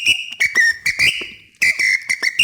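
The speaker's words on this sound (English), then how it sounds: "Sometimes it's a whistle." A percussion whistle gives sharp, piercing toots in quick bursts. A longer held blast follows a short gap, then more rapid toots, all loud, close and alone.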